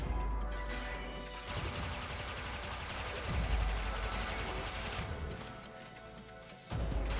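Rapid gunfire from the Akstiletto Prime dual pistols in Warframe, a dense, continuous burst of shots over a loud game mix that cuts out briefly near the end before resuming.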